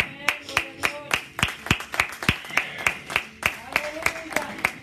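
A church congregation claps in a steady rhythm during a service, many hands striking together in sharp, evenly spaced beats, with voices murmuring faintly underneath.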